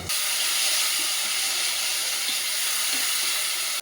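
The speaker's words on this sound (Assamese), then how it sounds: "অকণমান ঢাকনা মাৰি মাৰি ভাজিম, যাতে বিলাহীখিনি গলি যায়" Tomatoes with onion, ginger, garlic and a little salt fry in a covered pan, giving a loud, continuous steamy hiss and sizzle that holds steady throughout, with faint occasional pops, then cuts off abruptly.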